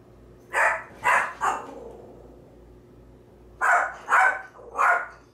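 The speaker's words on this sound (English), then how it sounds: "cue the dog." A dog barks in two bursts of three sharp, close barks, separated by a quiet pause, in an indoor kitchen setting with no talk.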